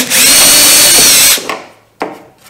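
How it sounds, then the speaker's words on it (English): A power drill runs loudly and steadily as it bores a pilot hole into a Clipper Packer solo canoe, then stops, followed by a couple of short clunks of handling. "Next, I'm going to drill a pilot hole to use as a guide"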